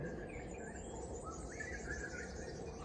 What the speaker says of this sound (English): I just heard some fairy wrens down there, Richard, so we'll keep an eye out for them.